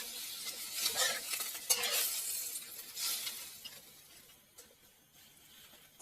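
Fresh shrimp being stirred in a pot of boiling water, giving scraping, rattling stirring noises over a bubbling hiss, louder at first and then easing off, with no talking.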